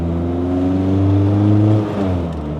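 A Honda K20 engine runs in a car at a steady, loud idle with a deep droning hum that swells slightly, then dips near the end, with no talk.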